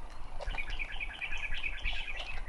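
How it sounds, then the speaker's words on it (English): A bird sings a repeated series of clear, high chirping notes at a steady rhythm, fairly close, over a low rumbling outdoor background with other faint bird calls; no speech. "You can hear sometimes that bird singing, like he calls someone."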